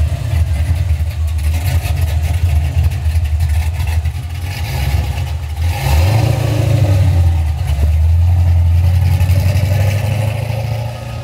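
A supercharged 1969 Chevelle engine rumbles loudly up close, holding a deep lumpy idle before climbing through two strong revs with a throaty rising and falling roar.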